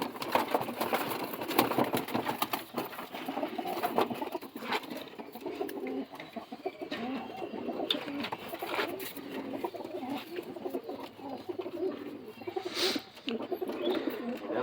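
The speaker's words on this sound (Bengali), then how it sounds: "এই আছে মাদা পায়রা" Madras breed pigeons coo in soft repeated throaty calls close by, with a low mechanical hum and faint rustling in the background.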